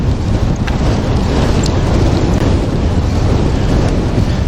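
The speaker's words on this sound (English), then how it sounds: "Wind is brutal, brutal." Strong gusting headwind buffeting the microphone while biking on the Historic Battlefield hike and bike trail in Brownsville, Texas, a loud, steady, rumbling roar that fills the whole stretch without letup.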